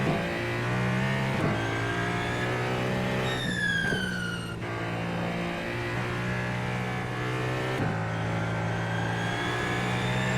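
A hypercar engine in a racing video game on the Nürburgring, a loud steady drone with rising revs and abrupt gear-change shifts, continuous and close with no talk.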